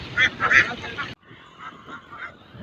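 Ducks at a lake duck farm in Chennai give loud, close, nasal honking quacks for about a second. Fainter, softer calls follow after a sudden drop in level.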